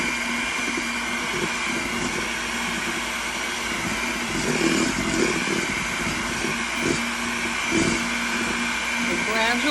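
An electric mixer runs steadily at medium speed, beating an egg mixture as olive oil is slowly added for a lemon olive oil cake, a continuous motor whir with a voice talking over it.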